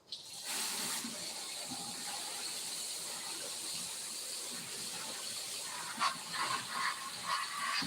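Water spray hisses steadily over dirt in a gold sluice with a conveyor belt beneath, a close, continuous gushing wash that sputters and splashes near the end.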